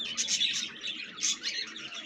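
Budgerigars at a Mirpur bird market in Dhaka chatter and chirp in a dense, continuous flock twitter, moderately faint and without talk.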